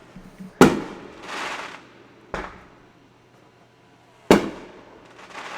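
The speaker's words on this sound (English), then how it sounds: "we're still setting off fireworks?" Fireworks going off outside at night, heard through an open window: three sharp bangs spaced a couple of seconds apart, each followed by a fading crackle and rumble.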